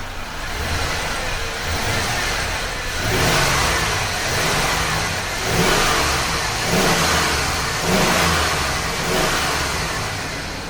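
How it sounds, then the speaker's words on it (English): A GMC Sierra pickup truck's engine runs close by and is revved repeatedly, several rising, swelling pulls in an even rhythm over a steady mid-pitched idle, with no talking. "start the truck up, let's see what she sounds like"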